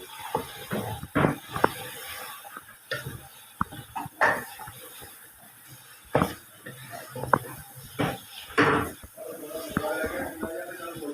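Potato and aubergine sabzi is stirred in a pan, with irregular scraping and clinking of the spoon against the metal as the vegetables are mixed, quiet and close, in short bursts separated by pauses.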